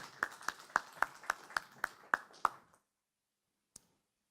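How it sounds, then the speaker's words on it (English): A quick round of applause for panelists at a mining investment conference, heard as about nine sharp, evenly spaced claps close by that stop abruptly, followed by one isolated clap after a short silence. "A quick round of applause for our panelists."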